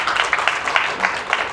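Audience applause at a lecture on children's rights given by the head of a group home for children: a room of listeners clapping in a steady, rhythmic pattern of pulsing bursts, moderately loud and close.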